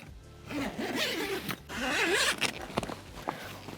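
The zipper on a Cross 1200 rooftop tent cover is pulled in a couple of long, rasping strokes, close and fairly loud, with brief pauses between pulls.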